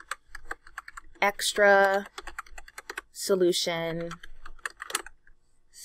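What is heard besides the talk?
typing on a computer keyboard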